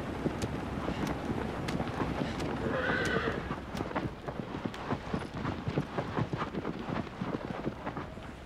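A horse in the video game Shadow of the Colossus neighs once in the middle, while rapid clip-clopping hooves run throughout against gusting wind noise.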